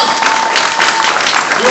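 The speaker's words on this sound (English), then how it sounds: "I can tell by your mild applause" Brief, modest applause from an audience at Knott's Scary Farm, a short patter of clapping that stays fairly even and doesn't swell.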